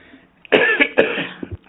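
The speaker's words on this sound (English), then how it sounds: "Sorry, I got a bit of a cough." A single close, harsh cough bursts out in two quick heaves, followed by a short throaty catch.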